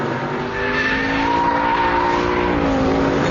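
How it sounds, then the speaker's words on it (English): An Aston Martin V8 Vantage power sliding out of a second-gear corner on a track, with a loud engine revving up steadily under a continuous tire squeal, heard close and without speech. "hit the throttle, second gear, easily controlled power slide, out of that corner at what, 90 miles an hour"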